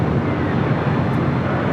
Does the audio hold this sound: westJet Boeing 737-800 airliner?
yes